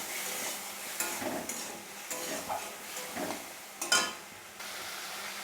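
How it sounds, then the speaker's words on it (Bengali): Spice paste with fried potatoes being stir-fried in a pan, a soft sizzle under repeated scraping and stirring strokes of a spoon, with a brief metallic clink near the end. "চার পাঁচ মিনিটের মতো আমি একটু ভালো করে কষিয়ে নেব"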